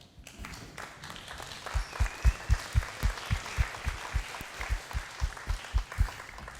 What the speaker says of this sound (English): Fifth grade, please rise and give them a round of applause